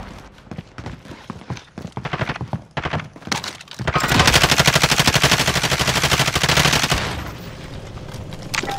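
Automatic gunfire in the video game Call of Duty Modern Warfare begins as scattered sharp shots and then becomes a dense, sustained burst of rapid fire for about three seconds before it tapers off.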